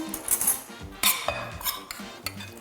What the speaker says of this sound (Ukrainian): Тому я додаю гречку, яка вже зварилася.